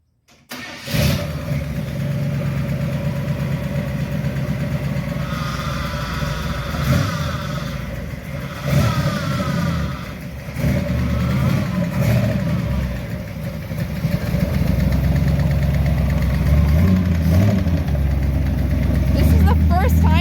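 1951 Chevy car engine running under its own power for the first time in over 50 years, a steady close idle that grows louder toward the end, with someone talking over it at times.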